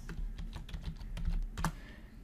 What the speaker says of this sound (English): So we'll type in a different name here.